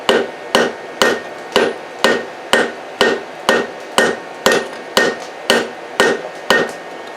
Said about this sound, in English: first thing I do is just open it up with the Hardy tool. And then the side of the anvil.